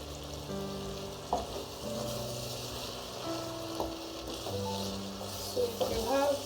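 A vegetable stew simmering in a pot, faint bubbling and sizzling with a few soft clinks of a utensil, low in level, with quiet talk in places.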